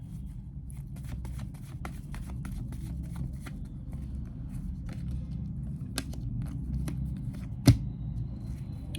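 Tarot cards shuffled by hand in a quiet room, a steady run of soft riffling and slapping close up, with a sharper snap near the end and no talking.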